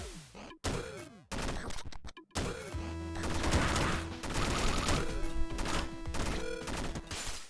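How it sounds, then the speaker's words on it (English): Machine gun fire in the video game Deathloop, loud bursts of rapid shots with clattering impacts and sharp gaps between volleys, then a sustained stretch of continuous firing. "Machine gun, don't mind if I do."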